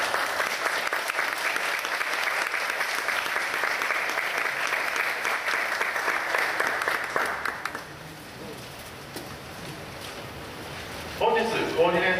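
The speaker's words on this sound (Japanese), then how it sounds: "皆様大きな拍手をお迎えください。" An audience at a Niiza mayoral election public debate in Saitama applauds the coordinator's entrance, a loud, sustained wash of clapping for about eight seconds that then fades before a voice begins to speak.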